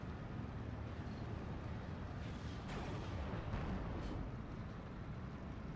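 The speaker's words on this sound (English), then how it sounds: "enemy rocket fire falling right on where my infantry dismounted" Enemy rocket fire in a Steel Division 2 battle lands on dismounted infantry as a steady, fairly faint rumble of distant impacts, with a few sharper cracks mid-way and no voices.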